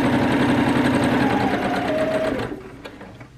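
A sewing machine stitches the first seam of a tiered circle skirt dress, running in a steady loud buzz for about two and a half seconds before it stops.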